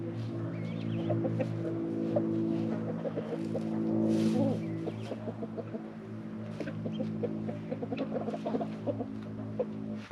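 A flock of backyard chickens clucks and chatters steadily at close range while they are fed weeds in a garden, with busy overlapping calls and faint rustling throughout.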